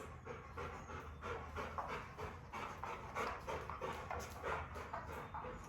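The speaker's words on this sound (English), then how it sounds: "I have a dog visitor." A dog visiting an indoor yoga session pants close by in quick rhythmic breaths, with soft shuffling movement in between, fairly quiet and with no talk.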